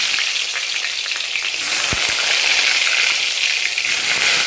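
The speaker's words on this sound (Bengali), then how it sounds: "এই যে তেলটা দেখো গরম হয়ে গেছে, আর বেগুনটাতে একটু হলুদও মাখিয়ে দিয়েছি।" Eggplant coated in turmeric fries in hot oil with a loud, continuous sizzle close by. The crackle holds steady and grows a little denser partway through, with no voices over it.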